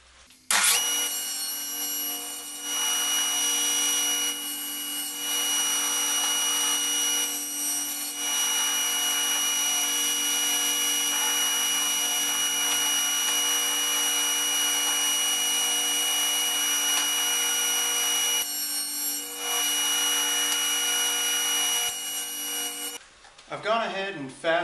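Power saw with its blade raised high, cutting a small piece off a shelf extension, running loud and steady near the mic for about twenty-three seconds with slight dips, then winding down at the end.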